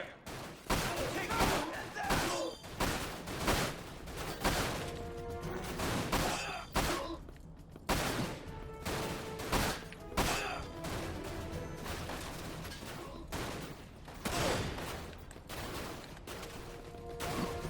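Gunfire in the video game Dirge of Cerberus: Final Fantasy VII, sharp repeated shots and bursts in irregular clusters, loud and close, with a voice talking over parts of it.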